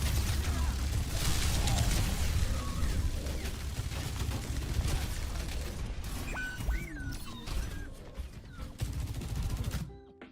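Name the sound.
Bastion gunfire in the video game Overwatch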